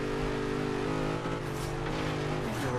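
A race car engine in Forza Horizon 3 holds a loud, steady high-revving drone with a slight dip and recovery while racing through a rainforest chicane.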